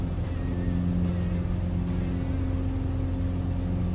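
A propeller aircraft engine running at high RPM in Microsoft Flight Simulator 2024, a steady loud droning hum with strong low tones, constant and unbroken for the whole stretch, with no voices.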